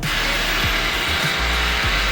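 A power drill steadily cutting threads into a hole on a Jeep, a continuous loud whirring buzz with slight dips in pitch as the bit bites and pulls in.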